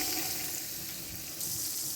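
A pat of butter sizzling in a hot pan on the stove, a steady hissing crackle up close that swells again toward the end, with no voices.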